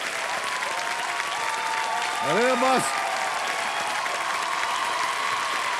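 A studio audience at a crorepati quiz show claps in a loud, sustained wash of applause, while a voice speaks briefly over it near the middle.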